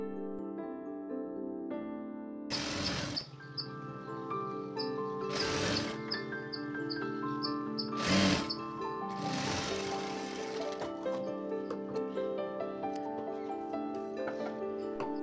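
A sewing machine runs in several short bursts while top-stitching the folded edge of a blouse sleeve, its whirring stitching heard over steady background music.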